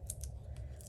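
Scissors cut through paper while making a stamped card, a few quick crisp snips close and quiet with no talking.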